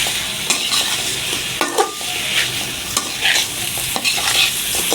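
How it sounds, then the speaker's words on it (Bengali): Semai vermicelli with chopped nuts and grated coconut stirred in a pan: brisk, close scraping and tossing strokes come in uneven bursts over a light dry sizzle, with occasional utensil taps and no talking. "এখন আমি এটাকে নেড়ে চেড়ে নিব"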